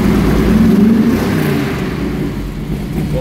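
The engine of a 1947 Chevrolet half-ton panel truck built as a street rod runs loud and close with a deep, steady rumble that eases off slightly toward the end, and no one speaks.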